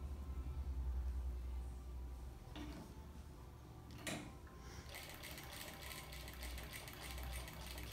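A domestic sewing machine stitches a patchwork flower dish towel, its steady motor hum and rapid needle chatter running throughout, with a brief clunk of handling midway before the stitching resumes alone.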